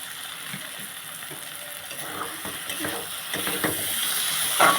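Ground cumin paste hitting hot oil in a pan while cooking a Bengali fish curry with vegetables, giving a continuous close sizzle with crackling bursts that swell and intensify toward the end, with no talking.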